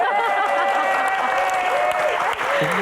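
Applause from a seated student audience at a campus Q&A event, a dense continuous clapping wash with a voice talking over it throughout.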